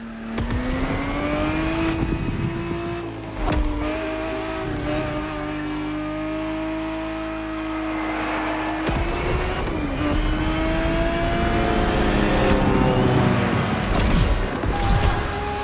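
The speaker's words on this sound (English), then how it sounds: "The Ferrari 365 GTB4 is the perfect vehicle for you to experience Ferrari racing as it felt back in the 70s" A Ferrari 365 GTB4 engine races in The Crew Motorfest, a loud, steady engine note that rises and falls with gear changes and revving, with a brief dip near the start and a sharper surge midway, and no talk.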